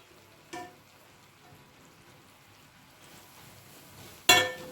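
Grated coconut stirred into hot sugar syrup for coconut barfi gives a soft, low sizzle and bubbling, with a sharper scrape or clack near the start and another louder one near the end, and no talk.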